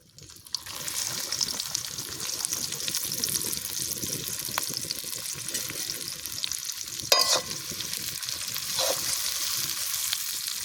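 Chopped onion and whole garam masala sizzling steadily in fish oil in a pan, a continuous close hiss with a brief stir and clatter partway through.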